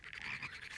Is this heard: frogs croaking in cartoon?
yes